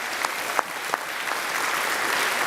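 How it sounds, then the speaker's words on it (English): Audience applause for the Deputy Presiding Officer at a Euroquiz final quiz event in the Scottish Parliament, a steady wash of clapping from a room of people with a few sharper nearby claps standing out near the start. "we definitely need to give the Deputy Presiding Officer, Christine Graham, a big round of applause"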